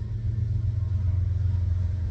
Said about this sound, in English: And every large truck just wants to go by today